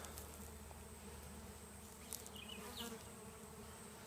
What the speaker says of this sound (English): we're standing in the middle of somewhat of a small swarm of bees